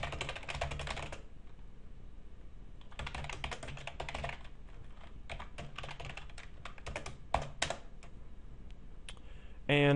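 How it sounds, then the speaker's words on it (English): Code being typed on a computer keyboard in the Eclipse IDE: rapid clusters of close, crisp key clicks in bursts with brief pauses and a few louder isolated taps, no talking. "What I just want to do now is type out our main method."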